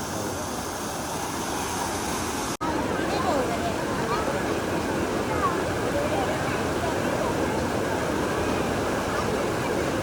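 A waterfall roars as a loud, steady, broadband rush of falling water, continuous through the clip apart from one brief dropout early on.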